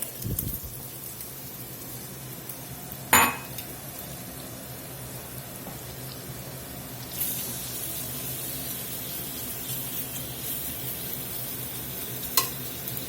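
Turkey sausage sizzles steadily in butter and avocado oil, a constant close hiss with a sharp utensil clatter early on and a brighter surge of frying partway through.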